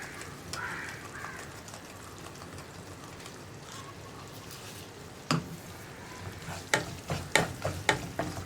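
Chili and turmeric powder sizzle softly in a pan while being stirred for a bilimbi pickle, a steady low frying hiss that turns into a run of sharp scrapes and clacks toward the end.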